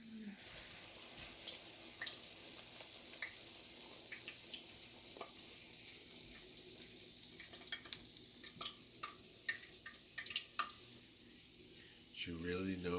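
Fry bread crackles and sizzles in a pan of hot oil as a soft, continuous hiss with scattered pops. Quiet talking runs over it, and a louder clatter comes at the end.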